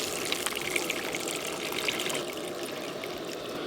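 Water pours steadily into a pot of mutton biryani with potatoes, a close, continuous splashing gush that runs without a break and without any speech.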